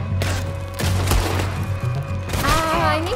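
Gunfire in the video game Red Dead Redemption 2 during a battle on Guarma: several sharp shots and bursts in quick succession, mixed with game noise and a brief voice.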